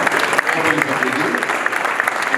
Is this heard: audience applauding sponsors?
yes